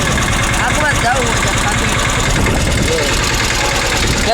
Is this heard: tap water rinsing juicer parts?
no